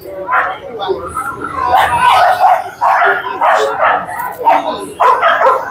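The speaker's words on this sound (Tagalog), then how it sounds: "Ang dami na namang aso" Several dogs, including Exotic Bullies, bark repeatedly at close range in quick, uneven bursts at a pet market, with some yips mixed in.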